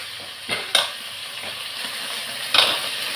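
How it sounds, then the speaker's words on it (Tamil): Food sautés in a pan of leftover oil from frying cauliflower, with a continuous close sizzle and a few sharp spatula scrapes and clinks against the pan. "வதக்கிக்கிறேன். இது வந்து காலிஃப்ளவர் வறுத்த எண்ணெய் தான்."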